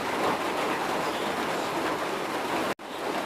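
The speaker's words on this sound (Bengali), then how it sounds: "কঠিন বৃষ্টি হচ্ছে।" Heavy rain pours down in Bangladesh as a steady, dense, even hiss that fills the whole stretch, broken only by a brief cutout near the end.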